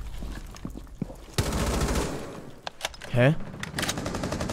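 Gunfire in Rainbow Six Siege: loud bursts of shots with several sharp cracks in quick succession, while a player briefly speaks over the action.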